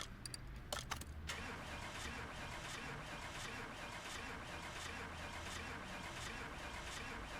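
A barn-find car in the Car Mechanic Simulator 2018 video game fails to start: a few quick clicks, then a steady, even whir of cranking that continues without the engine catching.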